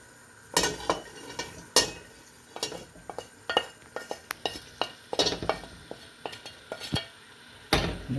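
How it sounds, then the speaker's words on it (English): A utensil stirs kale and parsley into a creamy mushroom soup in a pot, giving repeated scraping and clinking strokes against the metal with a soft wet sizzle underneath, close and moderately loud, with no talking. "I'm going to stir all that in"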